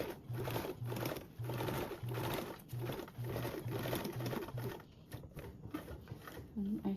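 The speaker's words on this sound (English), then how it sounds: "I'm going to sew first row with a 1/8 seam allowance" A sewing machine stitches binding onto a duffle bag in quick bursts of whirring, stopping and starting several times, close by, with a voice talking faintly in the background.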